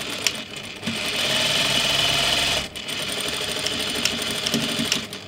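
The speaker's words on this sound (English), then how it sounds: "I'm just going to stitch those two pieces together with a half inch seam allowance" A sewing machine runs a half-inch seam joining a pocket to rock climbing pants, a steady close mechanical whir with a brief pause midway and a few faint clicks at the starts.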